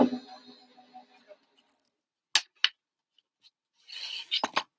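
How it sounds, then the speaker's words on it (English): Scissors or a paper-cutting machine cutting the lapels and pocket of a paper shirt card, heard as a faint fading hum followed by a few sharp, brief snips and clicks in quiet surroundings. "So this is going to cut out the lapels and it's going to cut out the pocket."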